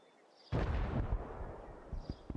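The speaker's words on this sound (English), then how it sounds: "there's some gunfire up in the distance" In the video game Arena Breakout: Infinite, distant gunfire breaks out as a sudden rumbling burst, then keeps crackling for about a second. A few fainter isolated pops follow.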